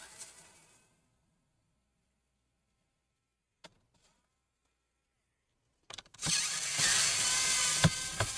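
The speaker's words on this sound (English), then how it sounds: "I'll be using the electric screwdriver here." An electric screwdriver removes screws from an MSI GS66 gaming laptop during a teardown. After a long quiet stretch with a faint click, a loud, close, steady motorized whir starts partway through and runs to the end.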